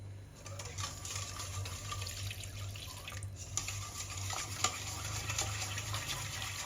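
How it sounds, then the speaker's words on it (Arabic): Warm water pours in a steady, soft stream into waffle batter, with a continuous trickling wash and a low background hum. No one speaks. "وغادي نزيدو الماء دافي."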